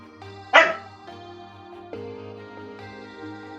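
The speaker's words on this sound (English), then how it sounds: "Sorry about the dog," A dog gives one sharp, loud bark close by, followed by quieter shorter woofs, heard over a steady background musical drone.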